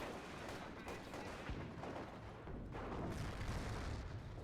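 A dense, continuous wash of battlefield gunfire and booms from an anti-tank gun firing in Company of Heroes, steady throughout with sharper blasts around the middle and near the end.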